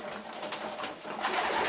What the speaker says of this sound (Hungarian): Minden galamb.